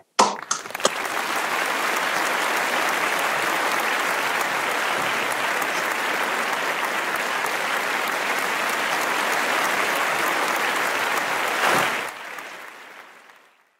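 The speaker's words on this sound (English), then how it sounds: "Please join me in applause" Sustained applause from an audience at an online Chinese New Year celebration, a dense steady wash of clapping that holds evenly for about eleven seconds, then fades out quickly.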